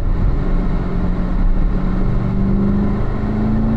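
A race car accelerates on a track, heard onboard. The engine drone is loud and close and rises steadily in pitch as the driver feeds in power, with no talk over it.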